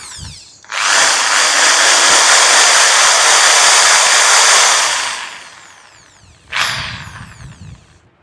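An electric hammer drill in hammer mode whines loudly and steadily for about four seconds, winds down, then starts again in a short burst.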